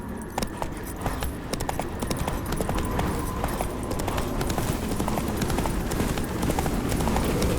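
Roach the horse galloping in The Witcher 3, rapid rhythmic clip-clop hoofbeats with jingling tack, close and loud, sustained throughout.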